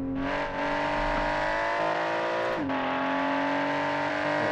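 A virtual MPV hill-climb racer in the game Automation, its engine droning at steady high revs while climbing, then dipping briefly with a gear change before settling back into a loud, sustained whine.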